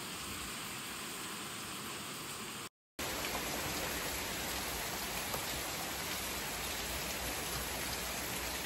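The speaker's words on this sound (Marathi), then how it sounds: "पाऊस सुद्धा खूप आहे." Heavy rain falls outside a village home in the Konkan region during the monsoon, a steady broadband hiss that runs throughout apart from one brief gap near the three-second mark; no one speaks.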